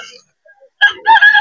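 A bullstag rooster at a pet market gives a short, loud crow that starts after a brief, quiet pause and is cut off at the end.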